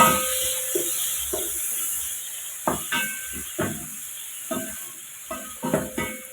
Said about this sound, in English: So we let our tomatoes cook.